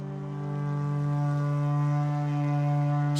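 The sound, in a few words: horn sounded to start a race in video game The Witcher 3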